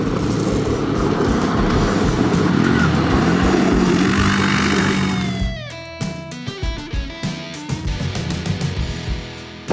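A 2018 CFMoto CForce 850 EPS ATV engine runs under way with a loud, steady drone and a rising whine for about five seconds, then drops off into scattered clicks and knocks.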